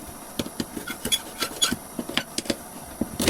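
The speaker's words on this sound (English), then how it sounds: "just take a scraper, scrape the paint off as much as you can on all the surfaces while it's still hot" A scraper rasps heated paint off a metal door hinge in quick, repeated strokes, close up and steady for several seconds with no talking.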